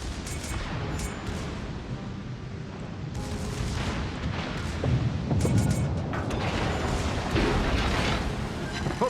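Warship guns in a naval video game firing at a target, heavy booms and rumbling blasts layered over a constant roar of battle noise, growing denser and louder toward the end.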